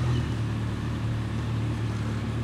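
Large-displacement Honda CB1300 Super Bol d'Or SP motorcycle engine running close by, giving a steady, loud, throbbing drone that holds an even pitch with no talking.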